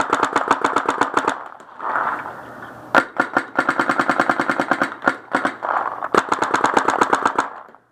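A Tippmann Stryker paintball marker fires rapid bursts of sharp pops at a paintball field, long runs of evenly spaced shots broken by brief pauses, loud and close.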